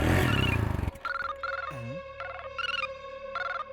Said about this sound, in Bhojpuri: रुका रुका, फोन आवता।